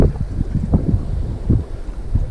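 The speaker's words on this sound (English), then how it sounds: "Super windy today." Strong wind buffets the microphone in heavy, gusty rumbles on a Lanzarote shoreline, with faint water sounds beneath and no talking.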